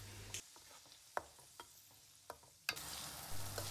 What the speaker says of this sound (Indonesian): masukkan bumbu halusnya. Terus langsung kita aduk-aduk dan masak sampai bau langu cabenya